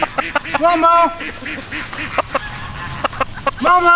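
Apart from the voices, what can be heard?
ducks approaching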